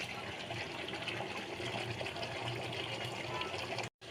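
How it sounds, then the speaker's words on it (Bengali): Water is poured into a pan of browned Bengali-style mutton, a continuous close rushing gush that holds steady for about four seconds before cutting off abruptly. "এবার আমি জল ঢেলে দেবো।"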